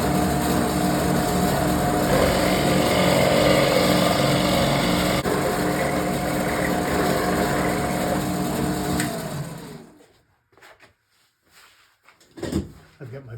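A Shopsmith drill press runs at a loud steady whine as a Forstner bit bores pilot holes through a solid-body electric guitar blank, then winds down and stops near the end, leaving a few quiet clicks.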